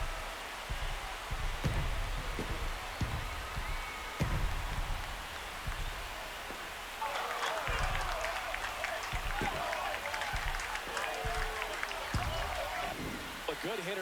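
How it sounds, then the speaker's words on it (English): Stadium crowd at a Yankees–Phillies MLB baseball game swelling into cheers and applause after a rally, a dense roar that grows louder midway, with a commentator's voice over it. "Here comes the crowd. They're feeling it right now."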